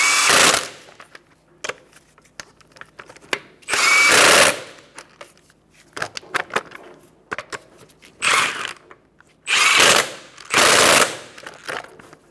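Bursts of a power impact tool tightening wheel lug nuts on a Kia Soul, several loud rattling runs of about half a second to a second each, separated by quieter clicks and handling noise.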